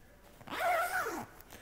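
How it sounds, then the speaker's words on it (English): Zipper on a Peak Performance Velocity running jacket pulled up in one smooth, rising zip lasting under a second, close and fairly quiet with no talk. "Zips all the way to the top."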